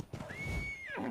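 A horse in a video game lets out one clear, high whinny that rises and holds, then falls away. It stands alone over a low background rumble.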